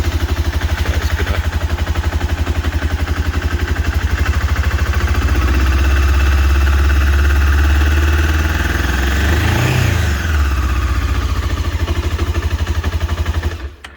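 A carburetted 2001 Honda CB500S idles from a cold start with the choke just taken off, thumping loud and steady up close. It swells briefly near the end before cutting out.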